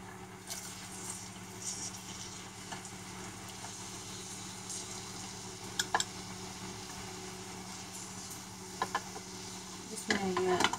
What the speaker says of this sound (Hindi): अभी ये मैं ऑयल डालने लगी हूँ, इसका प्याज इसमें डालूंगी, इतना सा जाएगा।